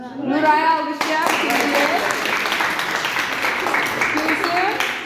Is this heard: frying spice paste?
no